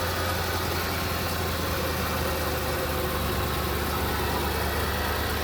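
A car engine idles steadily after a fuel injector repair, giving an even, continuous rumble close by with a faint fan hum.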